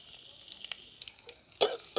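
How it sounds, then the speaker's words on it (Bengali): Chopped garlic goes into hot oil with ginger for a chilli carrot dish, giving a soft steady sizzle with a few sharp spatters and pops near the end. "এইবারে দিয়ে দিচ্ছি রসুন কুচি"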